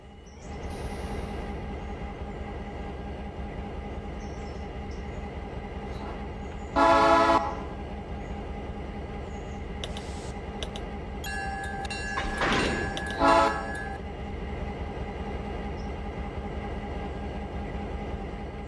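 Diesel locomotives on the Blue Ridge Western Railroad in Sylva idle and rumble steadily through the whole stretch, with a low continuous engine drone, a brief loud burst near the middle and a short horn-like tone later on.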